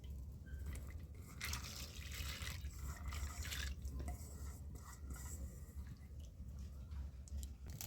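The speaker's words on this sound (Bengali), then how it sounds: "জল দিয়ে দিচ্ছি আমি।" Water being poured into a hot kadai to cook masoor lentil dal, a continuous rushing, bubbling hiss with faint clinks of a utensil against the pan, close up and without talk.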